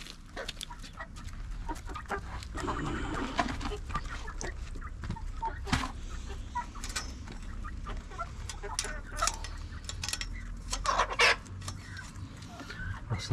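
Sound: Indian chickens clucking

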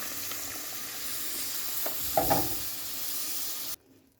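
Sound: syrup poured into roasting semolina halva, sizzling

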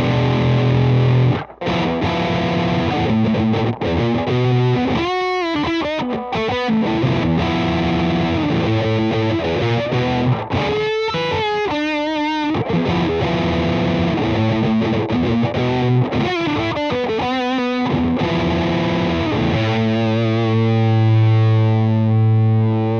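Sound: Greer Amps Soul Thrust fuzz pedal demo

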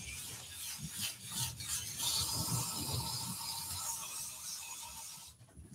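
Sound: sanding a wooden twig bowl

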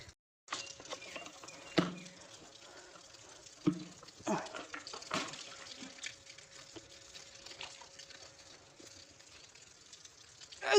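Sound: washing and wiping a dusty surface with water

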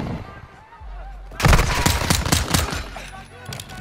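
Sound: gunfire in Modern Warfare 2 video game

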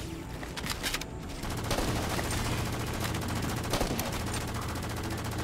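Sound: machine gun fire in video game Halo 4

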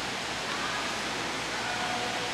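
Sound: waterfall

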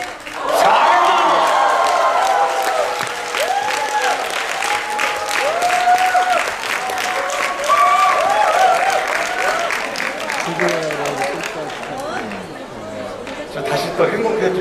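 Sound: applause in a hotel ballroom

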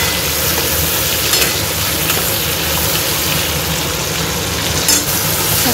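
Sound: spices being sautéed in a pan

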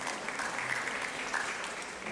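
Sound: audience applause

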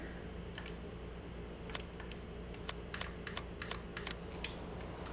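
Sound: typing on a computer keyboard

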